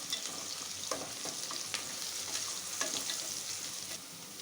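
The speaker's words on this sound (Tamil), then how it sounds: "வெங்காயம் நல்லா வதங்கிருச்சுங்க." Onions and curry leaves sauté in a pan with a continuous crackling sizzle, broken by several scraping stirs from a spoon. The sound is close and moderately loud, with no speech.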